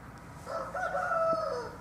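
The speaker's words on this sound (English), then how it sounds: "My cockerel's called Solo and he makes a lot of noise." A cockerel in a garden crows once, a moderately loud drawn-out call of about a second that rises and then falls, with quiet outdoor background around it.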